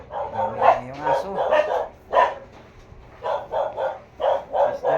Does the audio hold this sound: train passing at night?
no